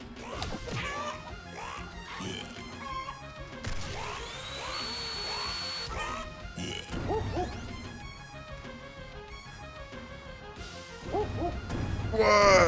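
Owl hoots from the video game Corn Kidz 64, sounding amid busy game music with repeated smashing and thwacking hits and swooping effects throughout.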